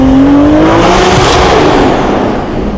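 BMW M4 CS with a 1000 hp single turbo build and custom exhaust revving hard inside a tunnel, a loud, close, echoing roar that rises in pitch and sustains before easing slightly at the end.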